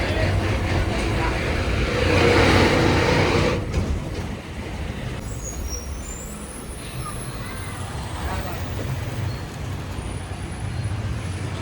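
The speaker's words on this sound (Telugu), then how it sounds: "ఇది అమలాపురం నాన్ స్టాప్ బస్సు" An APSRTC non-stop bus bound for Amalapuram rolls along a narrow village road, its engine and road rumble droning continuously from inside, louder at first, then settling into a steady hum with faint high squeaks.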